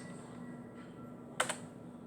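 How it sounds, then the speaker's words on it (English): Two quick key clicks from a computer keyboard on a 6809/6309 machine, a short close double tap over a quiet background hum. "Now we're going to type."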